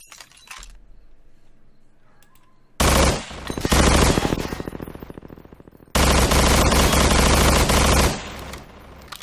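Gunfire in the game Estranged Act 1 comes as rapid automatic bursts, loud and close: one long burst of several seconds, a pause, then another sustained volley before it cuts off.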